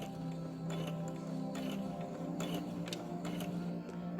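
Sewing machine stitching fabric for shirt ruffles, a steady motor hum with repeated quick mechanical clicks, running slowly and continuously at close range.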